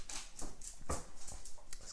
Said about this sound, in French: Ce que vous venez d'entendre, c'est le chien sur le parquet.